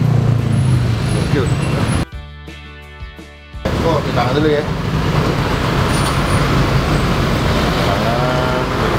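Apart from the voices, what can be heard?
heavy traffic jam on a road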